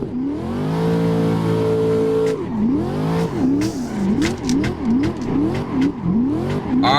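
A Corvette C6 drifts in the video game Assetto Corsa, its engine held at a steady high drone before it swings into repeated rising and falling revs and loud, close, rhythmic tire squeals.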